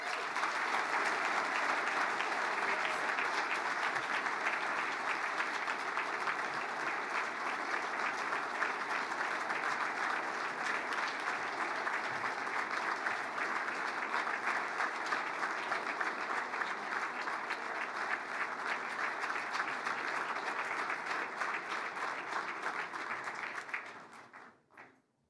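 A crowd at the 2024 USA Lacrosse Hall of Fame induction ceremony gives a long, steady ovation. Dense, even clapping fills the hall for over twenty seconds before fading away quickly at the end.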